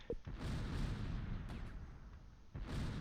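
Mortar fire in the Close Combat wartime strategy game at Arnhem, heard as a low rumbling boom that fills most of the short stretch, with a second muffled blast near the end.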